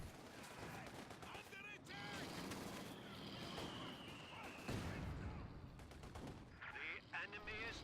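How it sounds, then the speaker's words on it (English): Mortar pit firing in a strategy video game, with booms and gunfire blending into a dense, continuous battle din at moderate distance, heard beneath a voice. "Mortar Pit firing randomly down into the bottom."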